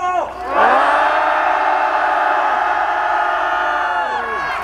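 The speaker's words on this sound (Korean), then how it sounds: "본대회가 시작하기 전에 힘찬 함성 질러주십시오." A large outdoor protest rally crowd at Gwanghwamun in Seoul lets out a loud sustained roaring cheer that swells after a brief pause and holds steady.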